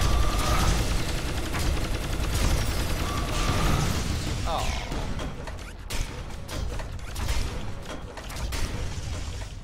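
Sol Contingency video game gunfire comes as a string of sharp shots and rattling bursts mixed with mechanical clicks, fairly close, heard under people talking.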